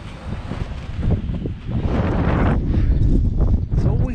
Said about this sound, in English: So windy, always windy.